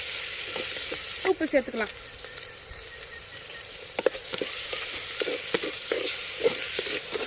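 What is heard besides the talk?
tomatoes sautéing in a pan for brinji rice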